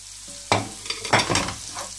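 Chunks of egg bhurji stirred in a little oil over high heat, a sharp clatter followed by a few loud scraping, sizzling stirs close up.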